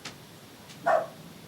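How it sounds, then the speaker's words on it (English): A single short dog bark at a sliding glass door, fairly close, with a couple of faint higher yips or clicks around it in an otherwise quiet room. "He barks out the sliding door between the vertical blinds"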